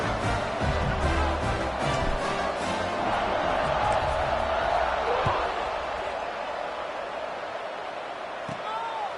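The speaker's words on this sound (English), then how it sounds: "this crowd is buzzing after that last score" Steady crowd roar fills a college football stadium in the College Football 26 video game, a dense sustained buzz under play-by-play commentary after a long touchdown.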